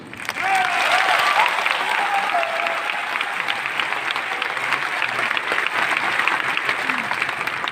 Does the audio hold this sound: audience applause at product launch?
yes